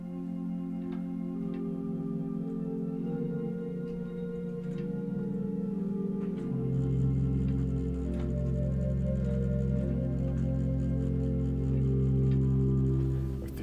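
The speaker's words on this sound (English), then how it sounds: "There is a tremulant on this manual," Four-foot flute stop with tremulant on the Hinsz pipe organ in Kampen's Bovenkerk: soft, pulsing sustained notes with a regular wavering beat, a melodic line over held chords, growing fuller in the second half, no talking.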